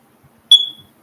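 A single sharp electronic chirp from a faulty smoke detector, loud and close, cutting off quickly in an otherwise quiet room.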